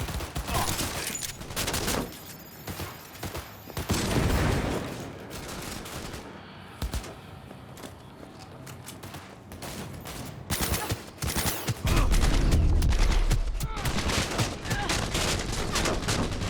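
Sustained heavy gunfire in the video game Cyberpunk 2077, dense automatic bursts and fusillades lasting the whole stretch, loud and close with brief lulls and shouted voices mixed in.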